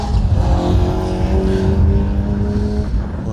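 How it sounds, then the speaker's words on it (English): Vauxhall Corsa rally car on a stage of the Colin Ellmore Memorial Rally, its engine loud and near as it drives past, revving with rising and falling pitch over a rumbling, gritty background. "Car 35, James Palmer-Smith, David Palmer-Smith in their Vauxhall Corsa."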